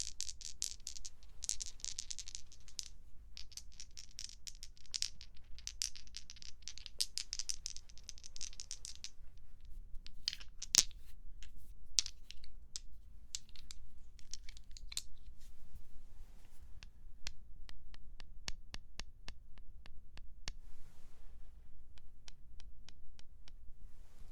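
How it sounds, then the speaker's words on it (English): Two six-sided dice rolled and rattled in the wooden tray of a Shut the Box game, giving repeated close, crisp clattering bursts that come and go, with sharp clicks as the dice settle, and no voices. "I always think the die sound really nice."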